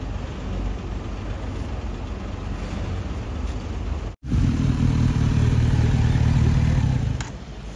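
Kawasaki Z900 motorcycle engine running steadily at close range, a loud continuous rumble that briefly cuts out and then returns with a deeper, heavier tone.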